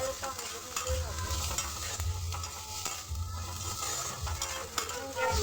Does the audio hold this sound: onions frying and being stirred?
yes